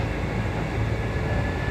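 Kintetsu Nagoya Line local train pulling into Shiroko station, a steady loud low rumble and rolling hum heard from inside the car without a break.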